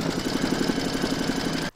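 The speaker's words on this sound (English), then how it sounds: "Pop your hoop into your machine and stitch round number 7 to secure it." An embroidery machine stitches a round of a large reindeer applique on hooped fabric, a fast even mechanical chatter with a regular pulsing rhythm, close and steady, then stopping abruptly.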